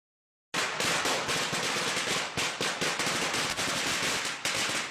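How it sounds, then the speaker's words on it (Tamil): A string of firecrackers bursts in a rapid, loud crackling volley that starts abruptly after a moment of silence and continues without pause, close by. "பட்டாசு எல்லாம் சூப்பரா வெடிக்குதுமா"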